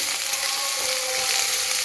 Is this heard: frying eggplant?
yes